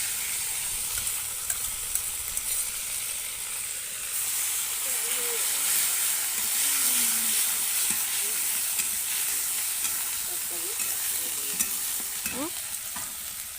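Cumin seeds sizzle in hot oil for a Bengali duck egg malaikari, a steady bright hiss that runs the whole time, with faint stirring scrapes and a few brief background voices.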